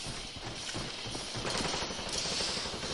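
Rapid automatic gunfire rattles on without a break in a Call of Duty match, dense and fairly faint, with no voices over it.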